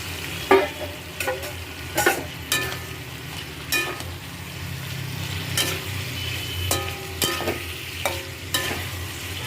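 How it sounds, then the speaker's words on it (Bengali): Fried potato and cauliflower stir-fried into spice masala in a pan for a village-style Bengali dish, sizzling steadily under intermittent sharp scrapes and clinks of the spatula, close up. "এবার আমি ভেজে রাখা আলু ফুলকপিগুলোকে দিয়ে দেব"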